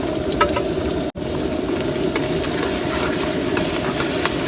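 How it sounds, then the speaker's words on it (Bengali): Onions sizzle steadily in a pan with green chilies, ginger and garlic, a continuous loud crackling fry with one brief drop to silence partway through. "রান্না কিন্তু বসিয়ে দিয়েছি পেঁয়াজ দেওয়া এবার দিয়ে দেবো কাঁচা লঙ্কা আদা আর রসুন"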